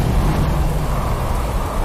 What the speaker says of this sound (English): And suddenly it's stormy.